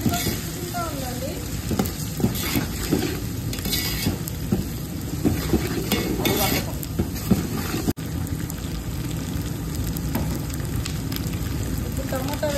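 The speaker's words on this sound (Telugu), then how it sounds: "సో ఇట్లా లైట్గా ఫ్రై చేసుకుందాం. ఇట్లా మారకుండా మనం మధ్యలో తిప్పుకుంటూ ఉండాలి." Coconut rice ingredients frying lightly in a pan while being stirred, a dense continuous sizzle with scraping stirs, loud and close throughout.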